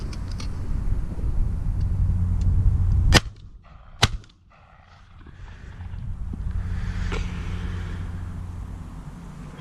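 Shotgun blasts at decoyed pigeons: two sharp, loud reports about a second apart, the second barrel following the first, each with a short echo, over a soft rumble of wind and distant traffic.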